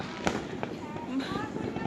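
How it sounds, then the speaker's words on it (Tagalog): New Year fireworks go off around the listener, with repeated sharp crackling pops and bangs while excited people shout and talk over them. "Ang daming paputok!"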